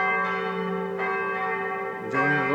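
Church bells ringing at six o'clock in Siena, heard from a hotel terrace, with several sustained resonant strikes overlapping and ringing out at a moderate distance, each new stroke landing about a second apart.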